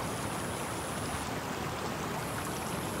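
Steady, close rush of a stream flowing beside a house in the video game Twin Mirror, an unbroken broadband water wash with no voices.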